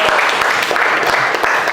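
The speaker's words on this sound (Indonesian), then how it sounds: "Tepuk tangan buat semuanya yang menjawab hari ini." A classroom group applauds students who answered questions during an economics lesson, quick overlapping claps at close range that stay loud and even for the short stretch.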